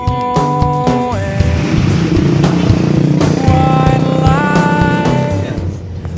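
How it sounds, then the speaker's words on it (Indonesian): Engine of a Nissan Evalia car hums with layered tones that step up and down as it revs, a loud, continuous drone with no talking. "Jadi yang kita rasakan dari Nissan Evalia ini, pertama dia suara mesinnya agak masuk ya"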